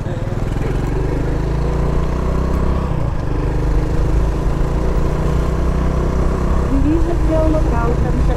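Small, low-slung motorcycle used for Uber Moto rides on a sunny street, its engine puttering steadily and close throughout, with a passing vehicle and faint voices in the background.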